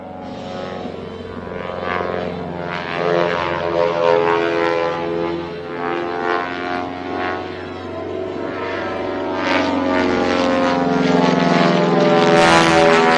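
A propeller airplane not designed for aerobatics performs a slow aerobatic routine at the Tinker Air Force Base air show, its engine droning loud and near with a rising and falling pitch throughout.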